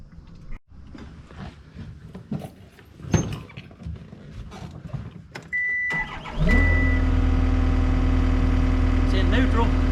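A John Deere 312GR skid steer with DPF and steering problems cranks after several seconds of shuffling and clunks, catches, and settles into a loud, steady diesel idle with a deep low hum.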